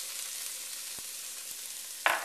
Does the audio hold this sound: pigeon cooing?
no